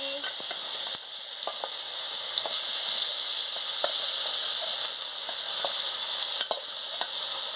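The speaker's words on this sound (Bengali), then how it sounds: "আর ফোড়নটা দিয়ে দিচ্ছি টমাটম কুচি দিয়ে দিচ্ছি" Spices and chopped tomato sizzle steadily in a frying pan for a Bengali sour fish curry with silver carp and pumpkin, a close, continuous hiss broken by scattered light clicks of stirring.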